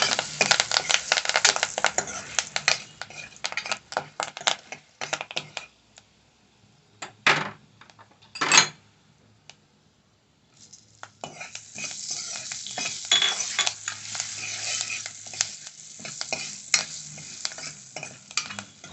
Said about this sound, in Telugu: మనకి పచ్చిమిరకాయ ముక్కలు బాగా వేగినాయి